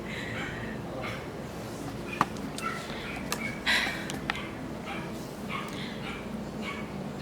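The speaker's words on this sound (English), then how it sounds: "they have a tiny chihuahua that cries constantly" A tiny chihuahua next door whimpers and yips in short, faint cries scattered over a steady background hum, distant and muffled as if heard through a wall.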